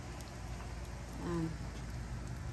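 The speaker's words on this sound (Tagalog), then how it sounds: "umuulan pa siya ng ice." Freezing rain falls steadily during a Texas ice storm in a residential neighborhood, a faint, even patter with a soft swell midway and a brief tonal sound over the hiss.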